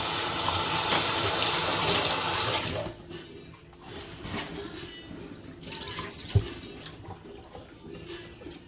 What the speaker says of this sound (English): I am draining the oxtails of all of that. It was soaking in water